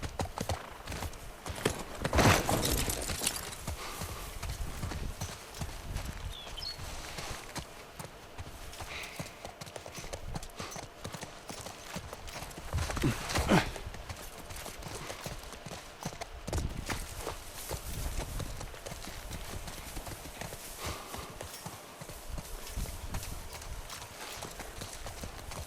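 Horse hooves clip-clop in a steady, rhythmic gait while riding a horse in The Last of Us, continuous and moderately near, with a few louder thumps standing out over light background noise.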